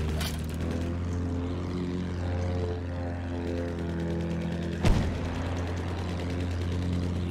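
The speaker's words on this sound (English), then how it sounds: "Over A, the plane." A propeller plane in the video game Battlefield 1 drones steadily and close, its engine hum running throughout, with a single sharp gunshot-like crack about two-thirds of the way in.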